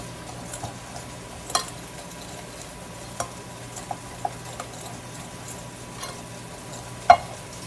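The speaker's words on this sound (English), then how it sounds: "And I'm just going to put some water and mix it up." A spoon stirs water into squash patty batter in a bowl, giving soft wet scraping and a few light clicks against the bowl, fairly quiet and steady.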